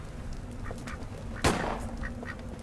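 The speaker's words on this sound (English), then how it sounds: "Oh look, Duck Hunt!" A duck quacks in the Duck Hunt sequence of the video game Little Inferno, one brief loud call rising near the middle over steady background game sound, with a few fainter calls scattered around it.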